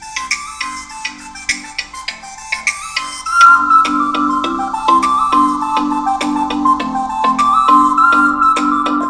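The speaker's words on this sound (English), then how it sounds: "This is the sound of the CORK 2 on a table." A CORK 2 Bluetooth speaker resting on a table plays a bright melodic tune with sharp plucked notes, starting softer and growing fuller and louder partway through, with no talking.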